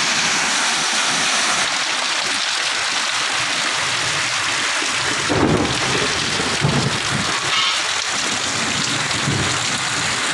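Heavy rain pours down in a thunderstorm in Gajapati district, a loud, dense, constant hiss of falling water with rolling thunder rumbling up midway and again near the end.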